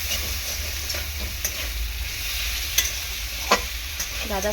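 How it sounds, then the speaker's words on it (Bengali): Peeled prawns fry lightly in a pan with a steady, close sizzle, broken by a few sharp spatula scrapes and clinks, no voices. "এরকম করে হালকা করে ভেজে আমি মাছটাকে তুলে নেব।"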